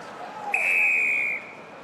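A referee's whistle at a France v Tonga Rugby World Cup 2019 pool match, one loud sustained blast of under a second over a low stadium crowd murmur.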